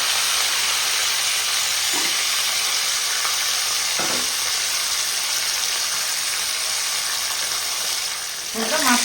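Pieces of rohu fish fry in hot oil in a pan, giving a loud, continuous sizzle with a few soft stirring clicks, close by and unbroken throughout.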